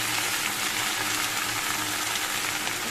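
Greens fry in a pan with black cumin and dried chilli, giving a steady, even hiss and sizzle from close by with no talking.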